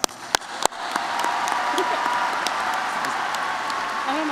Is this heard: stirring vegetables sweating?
no